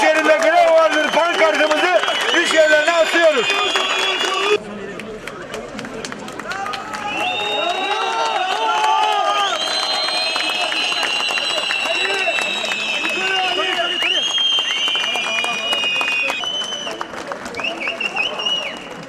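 Outdoor crowd of striking İzmir metro and tram workers at a rally, loud dense noise and babble with whistles and cheering voices, shifting into shrill sustained whistling and chanting.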